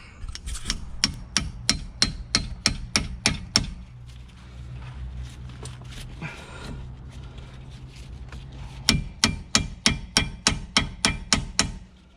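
Hammer blows on a ball joint splitter to free a wishbone arm on a Vauxhall Astra H VXR, a loud, steady rhythm of close metallic strikes, pausing for several seconds before another fast, evenly spaced burst.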